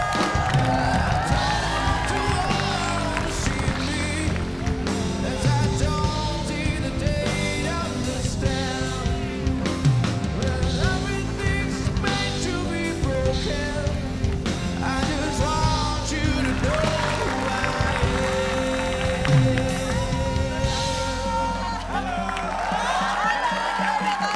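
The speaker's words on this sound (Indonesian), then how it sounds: "Kasih tepuk tangan Ria." Studio audience at an Indonesian television game show breaks into sustained applause and cheering as a guest is welcomed, a dense crowd roar running steadily throughout with music underneath.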